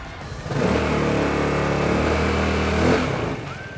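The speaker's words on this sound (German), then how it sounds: "Im Stand hört sich der Originalauspuff so an." A Vespa GTS scooter with its stock exhaust idles steadily at close range, a low buzzing drone with slight swells, fading in and out at the edges.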